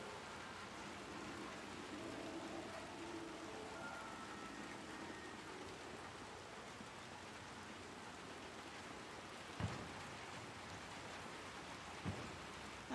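Steady heavy downpour from the game Little Nightmares 2, a constant wash of rain with two brief sharp knocks near the end, no voices.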